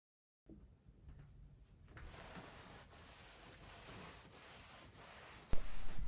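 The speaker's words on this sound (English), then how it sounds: "Now I've sanded down the paint on the top" Hand sanding on painted furniture top, soft continuous rubbing scratch at close range, quiet and steady with a louder bump near the end.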